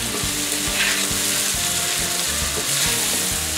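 Orange roughy fillets pan-sear in hot oil with a continuous loud, close sizzle and crackle that holds steady throughout, with no talking.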